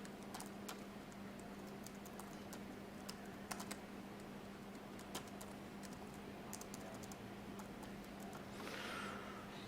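Steady typing on a computer keyboard, with irregular clicks and key taps running throughout over a low steady hum, fairly faint and without any voices.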